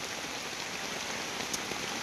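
Steady rain pours down across a Langra mango orchard, a dense continuous hiss of drops on leaves and ground, even and unbroken for the whole stretch with no voices.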